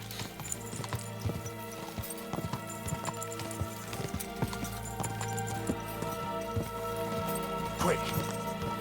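A horse gallops in Kingdom Come: Deliverance 2, its hooves striking a quick, even clip-clop rhythm under game music, with a faint voice in the background.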